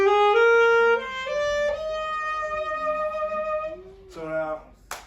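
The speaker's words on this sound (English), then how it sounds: "So, this is the saxophone." A saxophone plays a short melodic phrase up close, with clear sustained notes and a few slides between pitches, followed by a brief accented burst near the end.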